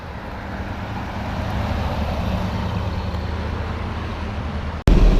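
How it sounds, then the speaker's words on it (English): A 1966 Ford Galaxie 7-litre with a 428 V8 drives along, its steady low engine rumble and road noise holding close and even before a sudden louder jolt at the very end. "thanks for cruising around with me in the 7-liter"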